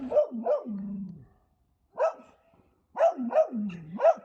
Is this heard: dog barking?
yes